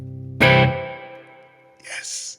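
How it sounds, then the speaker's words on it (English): A Gibson ES-335 semi-hollow electric guitar with strings hung on a trapeze tailpiece rings out with a little reverb: one loud strummed chord that decays slowly, followed by a short, brighter swell near the end. "Put a little reverb on it."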